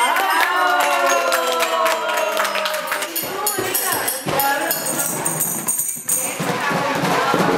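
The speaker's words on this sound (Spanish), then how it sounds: "Un aplauso." Children and an audience at a sound-and-body play workshop in Rionegro cheer and clap loudly and continuously, with excited voices rising over the crowd noise.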